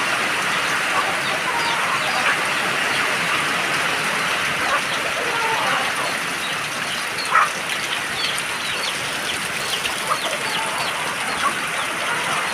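Chickens sheltering from heavy rain cluck intermittently amid a steady hiss of falling rain, with occasional faint sounds of a person nearby.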